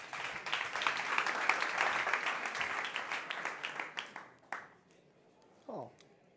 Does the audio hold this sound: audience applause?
yes